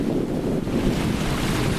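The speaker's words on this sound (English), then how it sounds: "Waves coming in across the lake." Wind roars across a lake while waves lap in steadily, with constant buffeting wind noise on the microphone and no voices.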